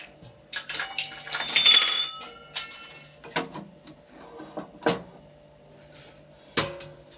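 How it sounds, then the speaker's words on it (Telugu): Sharp metallic clinks and knocks of a metal pot being set down, several distinct impacts spread over a few seconds, close by with no talking. "అందుకేనండి నేను గిన్నె పెడుతున్నాను"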